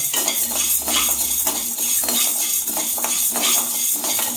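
Spices roast in a pan for tamarind rice while a utensil stirs and scrapes in a steady, repeated rhythm, loud and close, with a faint sizzle underneath.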